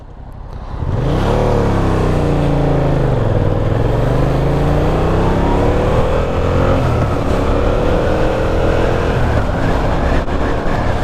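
A Yamaha MT-07 motorcycle pulls hard in first gear, its engine note climbing loud and close from a low rumble into a rising, sustained roar that holds strong through the clip.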